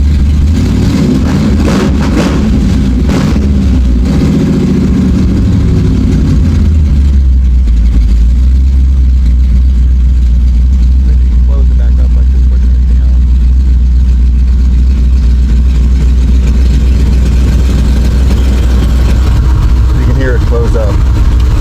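A car's engine runs with its exhaust cutouts switched open, giving a loud, steady low rumble with revs early on that settles into a deep idle drone, while a person talks over it.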